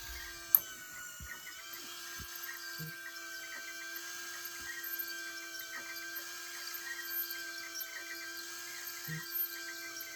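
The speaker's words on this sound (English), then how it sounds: "stepper motor will move back to its original position" A stepper motor on a pinball track Rube Goldberg machine drives the track back to position with a faint, steady whine and hum, marked by a few light clicks and ticks.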